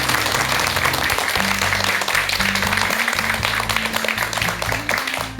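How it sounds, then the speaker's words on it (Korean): Studio audience on a Buddhist-themed lecture talk show claps for the doctor, a loud, continuous applause with a steady tonal hum running underneath. "우리 박사님께 큰 박수 한번 좀 보내드릴까요?"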